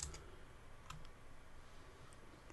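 Quiet, close clicks of a computer keyboard as values are typed in, a few scattered keystrokes over faint room hiss with no voices.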